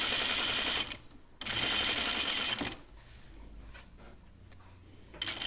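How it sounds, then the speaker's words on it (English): Close by, a sewing machine understitches a dress lining with the seam allowances pressed toward it. It runs in two short, steady bursts of rapid stitching, then gives way to quieter handling and fabric rustle. "I'm understitching, so I pushed all the seam allowances towards the lining."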